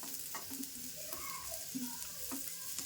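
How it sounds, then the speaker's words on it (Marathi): Roughly cut onion dry-roasts in a hot pan with no oil, giving faint, soft sizzling and a few quiet scrapes and stirs of a spatula, close by and without talk. "आता कांदा आहे ना आपल्याला असा एकदम भाजून घ्यायचा आहे"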